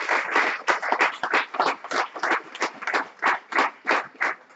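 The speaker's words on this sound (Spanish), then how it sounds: "Denle un aplauso al Señor." A church congregation claps in unison during a sermon, forming a loud, regular rhythmic beat of distinct claps that carries on steadily throughout.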